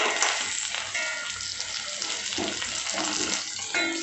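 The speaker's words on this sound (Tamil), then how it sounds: "கிஸ்மிஸ் பழம், ஏலக்காய், முந்திரியை வறுத்துக்கிடுவோம்." Cashews, raisins and cardamom pods fry in hot fat in a pan for carrot payasam, making a loud, continuous close sizzle with brief bursts of crackling as they are stirred.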